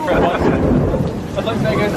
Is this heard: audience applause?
no